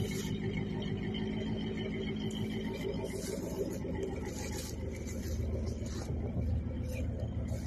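A Ford truck engine runs steadily at close range, a continuous low rumble with a rough, slightly scraping texture and no breaks.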